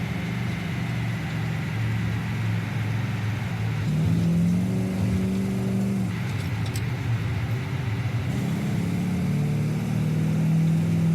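A small car engine accelerates while driving, a steady low hum that rises in pitch in a couple of revving surges, moderately loud without talk.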